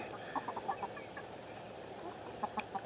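Chickens cluck in a netted, cloth-covered coop run, a few short clucks in small bursts near the start and again near the end over a quiet background, fairly close.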